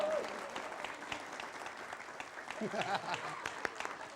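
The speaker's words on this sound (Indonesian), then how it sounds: "Tepuk tangan sekali lagi dong." A studio audience on an Indonesian TV variety show claps in a faint, steady patter, with a voice briefly talking through it.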